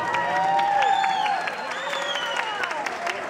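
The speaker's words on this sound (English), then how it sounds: "Another big round of applause for our wonderful young people." Applause from an audience at a Macedonian folk ensemble performance by young dancers in Rochester, steady clapping with scattered cheers and voices under clear whistling or melodic tones throughout.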